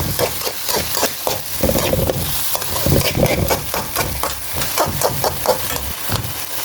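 Tomatoes sizzle and crackle steadily in a hot pan as a utensil stirs them in quick, irregular scrapes, close and fairly loud, with no talking.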